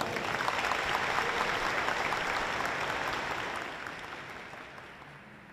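Applause from an audience at a formal ceremony, a solemn session awarding the Tiradentes Medal, with dense steady clapping that gradually fades toward the end.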